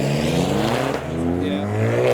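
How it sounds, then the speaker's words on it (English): A Mitsubishi Evo's engine on overrun at a large memorial car meet, a loud close drone that sweeps and falls as the revs drop, then climbs slightly again at the end. "Oh, lovely overrun from the Evo."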